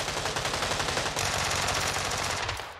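Rapid automatic gunfire from the battle-royale game PUBG Lite, dense sustained bursts of bullets cracking close and loud for nearly three seconds with no talk over them.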